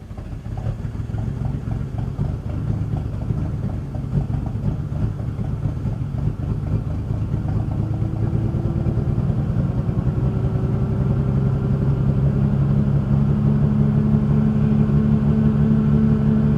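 An old Bucyrus-Erie 10B machine engine cranks and starts, settling into a steady, loud low idle that continues throughout with a deep rumbling drone and no talking.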